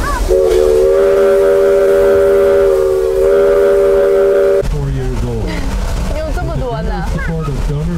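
A narrow gauge steam train at Roaring Camp sounds its whistle, a loud sustained chord blown twice in long blasts, then gives way to hissing steam and rumble with voices chattering nearby.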